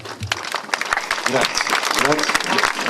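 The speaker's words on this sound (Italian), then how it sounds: "Se possiamo fare un applauso tutti in piedi, ve lo chiedo per favore." An audience at an award ceremony in Agrigento rises for a standing ovation, giving loud, steady applause with someone speaking over the clapping.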